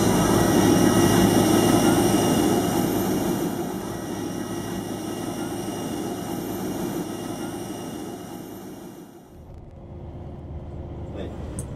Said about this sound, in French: Et voilà donc vers le vol pour Da Nang, un Airbus.